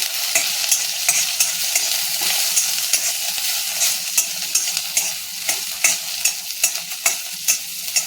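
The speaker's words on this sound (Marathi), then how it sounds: "बटाटा मिरच्या भाजून निघतात" Potatoes and green chillies roast in a hot pan for sabudana khichdi, a steady bright sizzle broken by sharp scraping stir strokes that come faster toward the end, with no talking.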